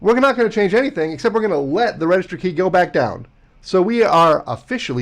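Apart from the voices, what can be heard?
No everyday noises stand out.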